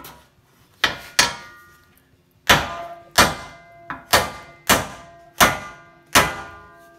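Sharp ringing hammer blows shaping sheet metal on an anvil for a 1950 Chevy cab corner, about nine strikes in an uneven rhythm, close and loud with brief metallic ring after each hit.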